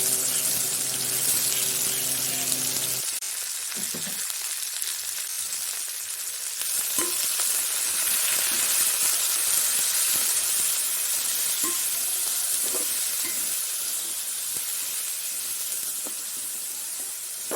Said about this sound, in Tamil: சட்டியில் கொஞ்சம் எண்ணெய் ஊற்றி எண்ணெய் சூடாகினதும் கொத்தவரங்காயை போட்டு நல்லா வதங்க வச்சு எடுத்துக்கொள்வோம்